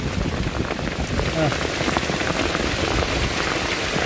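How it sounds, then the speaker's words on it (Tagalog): A downpour hammers steadily, a thick close wash of heavy rain that never lets up. "Ang lakas ng ulan."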